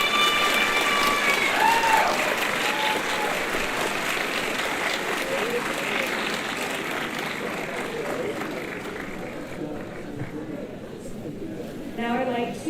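A graduation ceremony audience applauds steadily for the graduates' supporters, a dense, even patter of many hands that slowly fades, with some voices heard near the end.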